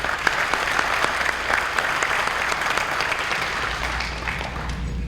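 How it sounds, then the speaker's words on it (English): A high school National Honor Society audience applauds, dense continuous clapping filling the room at a fairly loud, steady level throughout. "you deserve a round of applause yourselves"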